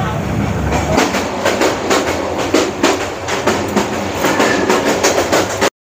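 A passenger train on the Sylhet to Sreemangal route rolls along, heard from inside with a loud, steady rumble and rhythmic clickety-clack of the wheels over the rails.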